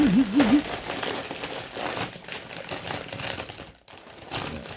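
A bag of crispy aromatic duck crinkle crisps with five-spice seasoning is shaken close up, giving a loud, continuous rustling crinkle and rattle of crisps inside.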